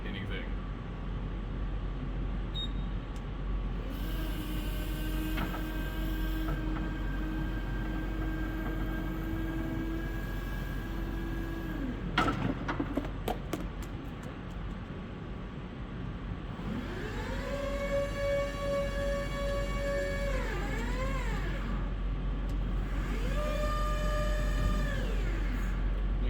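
The electric motor of a VNA truck's mini mast whines with rising and falling tones as the mast is powered down in a warehouse, over a constant low hum, with a metallic rattle partway through.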